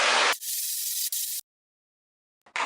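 Water hose spraying hard against a screen printing screen outdoors, two loud bursts of steady hissing spray with a short break, then a long silence before spraying starts again.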